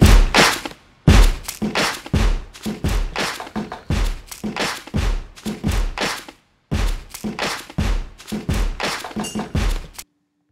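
A custom-programmed hip hop drum loop plays loud and up close, with heavy thumping kicks and punchy hits in a steady groove, broken by two brief pauses before the beat drops back in.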